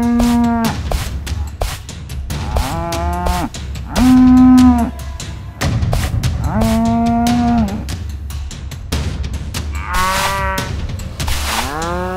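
A black bull, a strong muscular animal from dark-pigmented cattle lines, moos loudly and up close in a series of drawn-out calls, some rising and some falling, with brief pauses between them.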